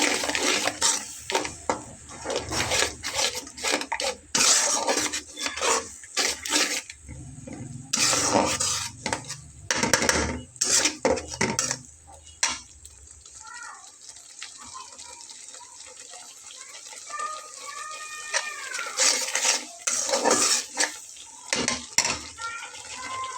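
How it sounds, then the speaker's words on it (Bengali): Spice paste with turmeric is sautéed and stirred in a pan, producing repeated scraping and clattering of a utensil against metal in irregular bursts, followed by quieter sizzling with faint sharp squeaks. "তো মশলাটা একটু কষিয়ে নেব যাতে করে কাঁচা গন্ধটা চলে যায়"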